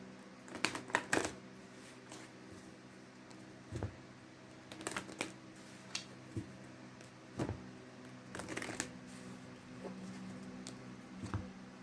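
Tarot-style love cards being shuffled and drawn by hand, giving soft, quiet bursts of riffling and sliding card sounds separated by short pauses, with no talking.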